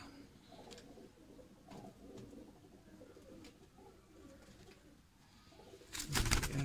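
Pigeons coo softly in the background, low repeated calls under quiet ambient noise, followed near the end by a louder burst of rustling or flapping close by.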